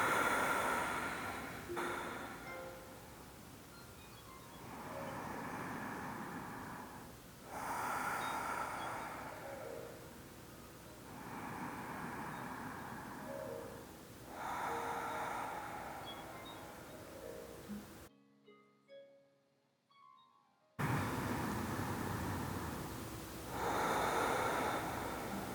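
Slow, steady breaths during a yoga inversion, each inhale and exhale rising and falling in long swells, close and soft with a quiet room tone and a brief near-silent gap.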